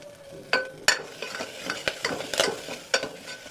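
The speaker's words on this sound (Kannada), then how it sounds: "ಸೊ ಇದಾದಮೇಲೆ ಒಣಮೆಣ್ಸಿನ್ಕಾಯಿ ಆ್ಯಂಡ್ ಕರಿಬೇವು ಹಾಕ್ಕೊಳ್ತಾ ಇದ್ದೀನಿ." Dried red chillies and curry leaves dropped into hot oil for a sprouted-gram curry, a soft crackling sizzle with a few sharp pops and spoon scrapes against the pan, close and fairly quiet.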